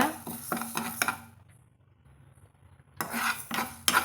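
Lentils for ven pongal being roasted in a pan, heard as a metal spoon scraping and clinking against the pan in quick rhythmic bursts, pausing into near silence, then resuming close up.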